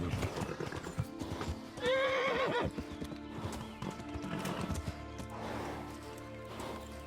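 A horse in the video game Kingdom Come: Deliverance galloping through woods, with steady hoof clip-clop and a loud whinny in the middle, the hoofbeats continuing afterward.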